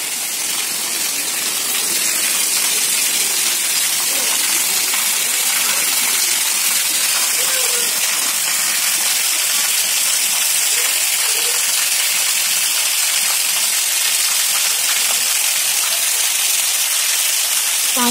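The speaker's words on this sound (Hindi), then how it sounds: "बाहर बारिश बे मतलब इतनी ज़्यादा बारिश हो रही है" Heavy rain pours steadily outside, sending a dense, loud, unbroken hiss and gush of water running down a flooded road for the whole stretch with no voices.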